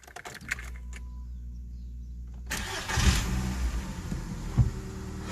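VW Golf IV engine with a new exhaust starting after a few light clicks, then idling with a low steady rumble and a couple of small throttle blips, close and moderately loud.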